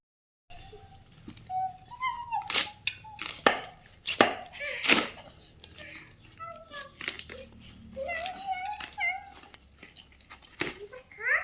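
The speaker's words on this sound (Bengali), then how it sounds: "সবজিটা কাটতে থাকি ততক্ষণে" Vegetables are chopped with a knife in a home kitchen, giving irregular sharp close knocks in short runs, while a cat meows repeatedly and someone speaks in the background.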